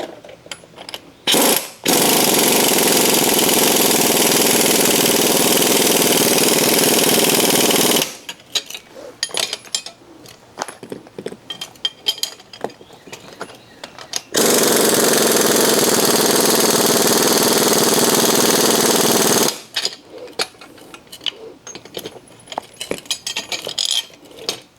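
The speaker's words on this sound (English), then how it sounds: "We need to go ahead and compress the spring." Universal spring compressors being run on the front strut spring of a 2008 VW Mk5 GTI, giving two long, loud bursts of rattling power-tool hammering with quieter clicks and handling noises between them.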